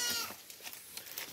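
Goats being let out to feed give short, faint bleats, a few brief calls scattered over just over a second against quiet background noise.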